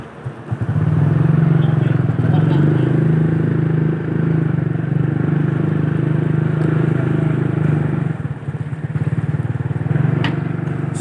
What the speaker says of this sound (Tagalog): Park ko lang yung motor.